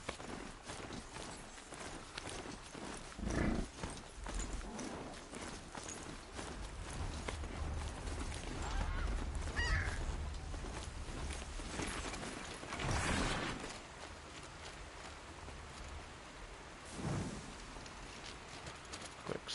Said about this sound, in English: My noble steed, Billy.